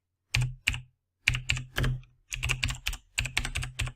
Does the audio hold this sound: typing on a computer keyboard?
yes